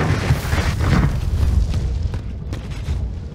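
A rocket launcher explosion in a video game, a loud, close, rumbling boom with dense low-end roar that swells and slowly tails off over a few seconds.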